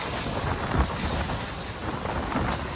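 Mumbai local train running between Matunga and Churchgate, a steady loud rumble and rattle heard from inside the carriage, with faint rhythmic clatter and no voices.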